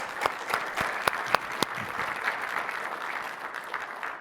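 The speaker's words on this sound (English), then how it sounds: "Big round of applause, please." Audience applause after a conference talk on migrating to Microsoft Fabric, steady clapping from a crowd with a few sharper claps standing out near the start, holding evenly for several seconds with no talk over it.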